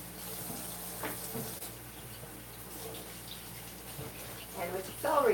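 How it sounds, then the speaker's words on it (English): Tap water runs into a kitchen sink as vegetables such as celery are rinsed, a soft steady flow with louder splashing toward the end, and a person speaks faintly in the background. "So I'm going to rinse these."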